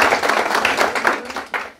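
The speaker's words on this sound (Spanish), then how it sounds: "les pido un aplauso para" Audience clapping at a marketing student event, a dense burst of applause from a room of people that stays fairly loud throughout, with a brief lift near the end before fading.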